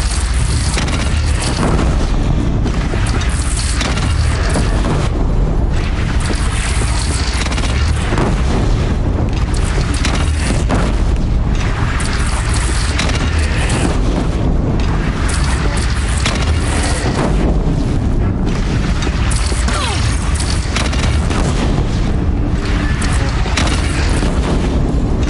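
Sustained cannon fire and heavy explosions in the video game Horizon Zero Dawn, a dense, loud barrage of deep booms and bursts rolling continuously with no pause.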